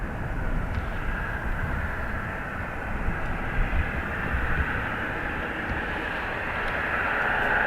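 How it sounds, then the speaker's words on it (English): An Aer Lingus Airbus A330 takes off from Dublin Airport bound for Chicago, heard from a distance as a steady, broad jet roar that swells slightly toward the end, with no talking. "This is our A330 Aer Lingus off to Chicago."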